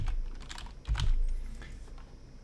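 Quick keystrokes on a computer keyboard, a short close burst of several clicky taps with a thump partway through, no speech.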